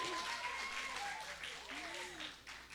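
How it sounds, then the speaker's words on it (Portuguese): Church youth audience gives a volunteer a round of applause, a soft, fairly distant clapping wash with a voice speaking over it. "Palmas para o meu voluntário."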